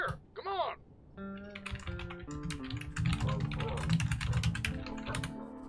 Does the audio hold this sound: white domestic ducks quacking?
no